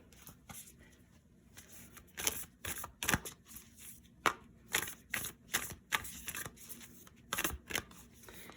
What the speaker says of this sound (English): now I'd like to get some chakra cards here.